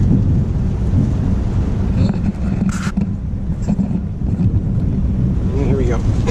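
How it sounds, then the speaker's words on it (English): Thunder rumbles low and continuous during a thunderstorm at a trucking company's yard in Tulsa, Oklahoma, heavy and loud with wind buffeting the microphone throughout. "So, nice little thunderstorm here at the Melton headquarters in Tulsa, Oklahoma."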